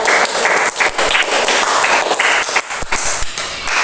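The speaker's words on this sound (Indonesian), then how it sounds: "kita kasih tepuk tangan." A group applauds in a classroom or seminar session, with lively, close, uneven clapping in bursts of taps lasting a few seconds.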